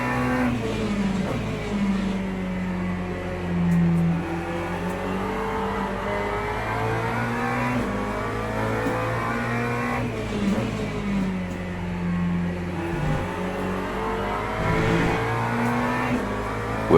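GT3 race car in Le Mans Ultimate on a wet Monza circuit, engine revving continuously with rising and falling pitch through gear changes and downshifts, steady and close throughout.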